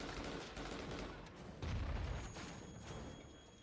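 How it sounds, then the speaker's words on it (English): Gunfire crackles during a compound raid: quiet bursts of shots with a louder low thump partway through, distant and muffled. "As they break in, gunfire erupts."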